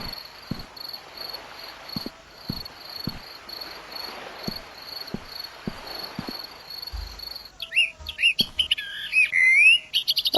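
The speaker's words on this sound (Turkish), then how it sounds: "burada da kuşumuz." Steady insect chirring with faint clicks in the video game Counter Terrorist Shoot, then several birds break into quick, high chirps and tweets near the end, growing louder.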